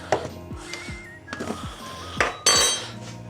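A utensil stirs an instant sauce made with hot liquid in a pan, giving close metallic clinks and scrapes against the pan in an irregular rhythm, with no talking.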